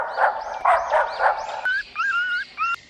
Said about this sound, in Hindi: फिर उन्हें बाहर से कुत्ते के भौंकने की आवाज आती है।